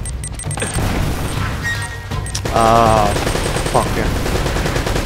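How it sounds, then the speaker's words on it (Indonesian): Gunfire and a blast in Uncharted: Drake's Fortune on PS4, with loud close bursts of shots, a heavy boom partway through and sustained rattling fire afterward, while a player exclaims over the noise. "Kayak ada yang bawa machine gun dan itu granat."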